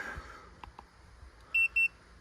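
A grain moisture tester for corn and other grains gives two short, clear electronic beeps as it powers on, after a few faint handling clicks in a quiet room.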